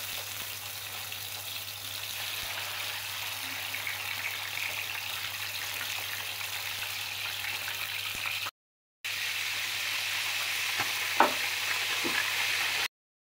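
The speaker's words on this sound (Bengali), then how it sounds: "এখন আমি মুরগিটা ভেজে নেব, আপনাদের দেখাবো কতটা ভাজতে হয়।" A whole chicken frying in hot oil in a pan, a steady close sizzle with a brief silent gap and a couple of faint stirring knocks near the end.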